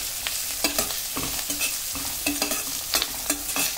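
Turmeric being stirred into a pan mixture with curry leaves for cauliflower fry, heard as close, repeated scraping strokes of a spoon against the pan in a steady rhythm, with no talking.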